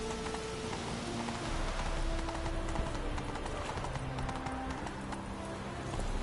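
Horse hooves clip-clop at a steady pace in a PS4 video game, the horse named Roach, rhythmic thuds over a soft rain-like wash with faint game music tones underneath.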